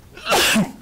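A single loud, close sneeze with a short breathy intake and a sharp burst, heard during a school board meeting.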